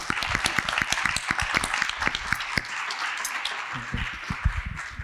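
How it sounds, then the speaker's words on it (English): Audience at a donors' forum applauding guests, a moderately sized crowd clapping with distinct sharp individual claps in an uneven patter that thins slightly midway and then picks up again. "Can we give our guests a round of applause?"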